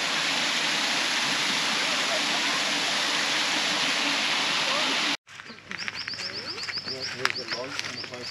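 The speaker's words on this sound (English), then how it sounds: "The waterfall, what they said." Steady, dense roar of the Fruit Bat Falls waterfall on Cape York, loud and close for about five seconds, then cutting to quieter outdoor ambience with birdsong and distant voices.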